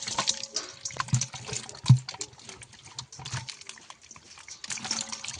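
Live shing catfish splashing and sloshing in a container of water as some are put back, with scattered wet slaps and drips of varying loudness, close by and without speech.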